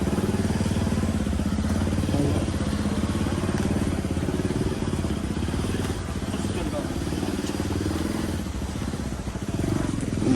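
A motorcycle engine runs steadily on a rough mountain road in Mustang, Nepal, with a loud, continuous rumble that barely changes throughout.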